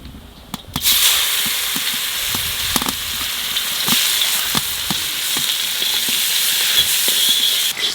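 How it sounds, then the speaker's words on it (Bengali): Onions hit hot oil with black cumin seeds in a home kitchen: a sudden loud sizzle that continues as a steady hiss, broken by small pops and occasional stirring clicks. "পেঁয়াজটা একটু ভাজে নিচ্ছি"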